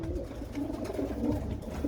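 Long-distance racing pigeons coo in their loft, a continuous, soft, low burbling chorus heard up close.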